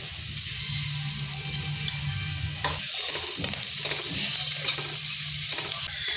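Onion sautés in oil with a pinch of salt, asafoetida and turmeric, giving a moderate frying crackle mixed with stirring scrapes, with a few sharper clicks through the middle.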